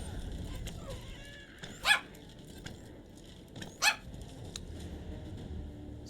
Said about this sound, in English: Like I said, dogs barking.